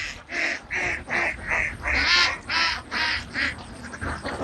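Ducks on a duck farm quack loudly and close by, about ten harsh calls in a quick, uneven series, with no speech.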